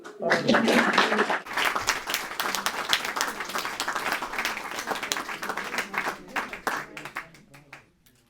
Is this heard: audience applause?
yes